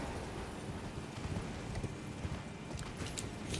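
Horse hooves clatter in a rapid, steady galloping rhythm as a rider crosses terrain in the video game Elden Ring, a continuous moderate-volume thudding over a broad wash of ambient game noise.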